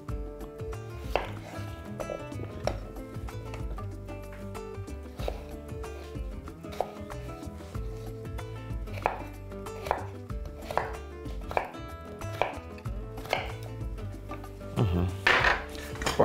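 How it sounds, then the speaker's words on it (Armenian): A knife chops three sweet potatoes into small pieces on a board for a beef tenderloin and sweet potato soup, giving steady, close, sharp cuts in an uneven rhythm, with a few louder knocks near the end and no talking. "կտրատենք մանր, որ արագ եփվի"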